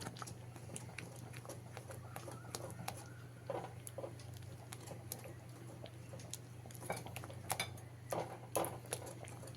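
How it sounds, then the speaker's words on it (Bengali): Boiled red lentil dal, cooked with bitter gourd, is mashed with a ladle in a pot: soft, irregular taps and scrapes over a steady low hum, faint and close. "এবারে একটা হাতার সাহায্যে ডালটাকে একটু ভালো করে পিষে নিতে হবে"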